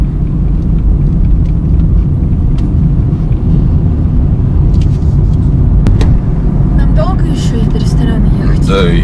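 A car driving along, a loud continuous low rumble of engine and road noise filling the cabin, with people talking over it.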